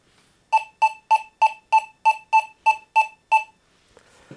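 An XP Deus 2 metal detector in a two-tone high square program beeps eleven times in a quick, even rhythm on an iron target, each short tone identical and clear, followed by a brief burst of faint static.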